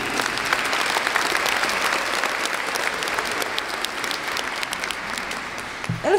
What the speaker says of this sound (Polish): Brawa, byliście wspaniali.